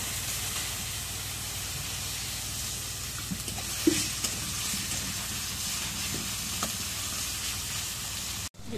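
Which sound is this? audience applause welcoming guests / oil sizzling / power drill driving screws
oil sizzling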